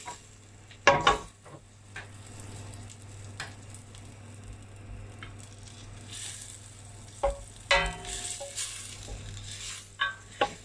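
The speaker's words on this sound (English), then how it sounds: "let's get the butter melted" Butter melting in a pot for endive soup gives a faint, steady sizzle under a low hum, broken by a few sharp clinks of utensils against the pot.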